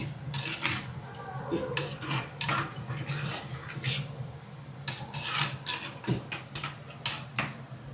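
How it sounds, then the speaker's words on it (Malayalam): Metal utensil scraping and stirring in a pot of fish curry being cooked in Alappuzha, Kerala, with repeated rasping strokes at an irregular rhythm, close and fairly quiet. "മീനിട്ട് ഒന്ന് ഇളക്കി"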